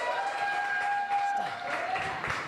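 An audience gives a short burst of applause for the founder of the Chattanooga Whiskey Company, clapping mixed with crowd noise and a sustained tonal ring, moderately loud and close.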